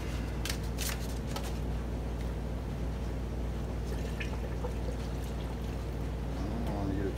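Clear coat paint is poured into a reused mixing cup, giving a soft, steady trickle with a few sharp crinkly ticks early on, set against a constant low hum.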